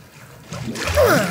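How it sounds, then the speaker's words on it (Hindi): Splashing and trickling water in the survival horror game Resident Evil 7, a short wet swirl that swells louder toward the end. "पानी, पानी है यहाँ तो भाई।"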